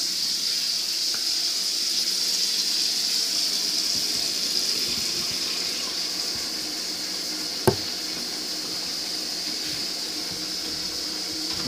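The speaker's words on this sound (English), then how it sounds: "We got the water running in there." Kitchen tap running steadily into a sink, a continuous hiss of flowing water with one brief clunk partway through, no talk.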